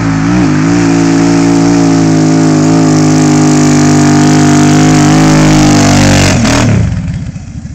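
A Kawasaki KFX 700 ATV engine revs hard and steadily while climbing a hill, loud and close throughout, then drops off sharply near the end.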